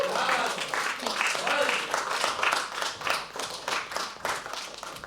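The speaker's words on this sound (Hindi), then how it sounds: "क्या बात है, जोरदार तालियां" Audience applause at a live poetry open mic, dense clapping from a small crowd that swells and fades in waves across the clip, with voices mixed in.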